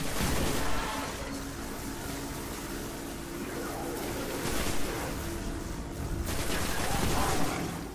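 A turret fires in the video game Destiny: The Taken King, a dense, continuous rattle of rapid shots with steady loudness across the whole stretch.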